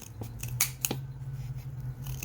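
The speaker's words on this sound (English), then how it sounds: "Get a good pair of sharp scissors to do this." Sharp scissors snipping through material for an aquarium spawning mop, a few crisp close cuts in an irregular rhythm over a low steady hum, with no talking.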